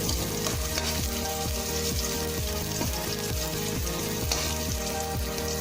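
Onion sautés with garlic in a pan for a mussel tinola. A loud, continuous sizzle runs throughout, with regular stirring scrapes and a steady tonal hum underneath.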